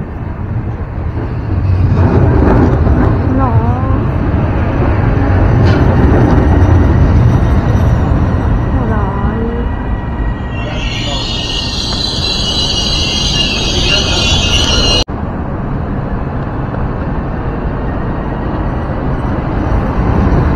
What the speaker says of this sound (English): Through train approaching on track 1.